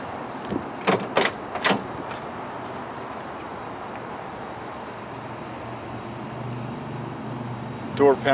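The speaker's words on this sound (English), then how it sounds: "Windows roll up and down very nice." On a 1971 Camaro RS/SS, a few sharp door-area clunks sound first, followed by a steady, low whirring hum as the power windows roll. A final clunk comes near the end, heard close.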